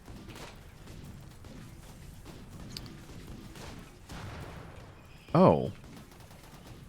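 Gunfire in the RimWorld video game pops as scattered faint shots over low background noise, with a brief sharper burst near the end and a short spoken exclamation.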